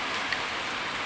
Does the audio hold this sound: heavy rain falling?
yes